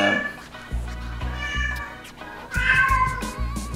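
A cat meows repeatedly nearby, drawn-out cries in a few separate calls, with faint background noise.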